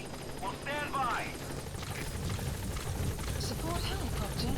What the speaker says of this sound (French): Support helicopter.